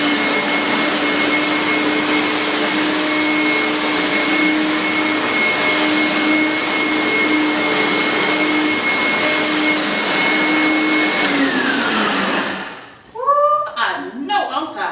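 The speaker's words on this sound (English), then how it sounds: "Next, we're going to shampoo the carpet, and I'm going to show you how well it's going to clean your carpet." A carpet shampooer cleans carpet with a loud, steady motor whine for about twelve seconds, then cuts off abruptly, followed by brief laughter and talk.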